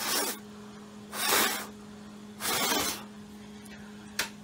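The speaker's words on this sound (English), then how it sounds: "So I'm just gonna blow on it." Someone blows on wet paint on a piece of wood to dry it: three long, breathy puffs and a short final one, close and soft, with no talking.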